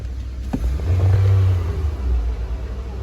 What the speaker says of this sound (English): as we give it some throttle